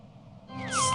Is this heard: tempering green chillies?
no